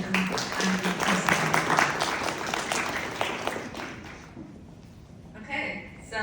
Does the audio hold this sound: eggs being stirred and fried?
no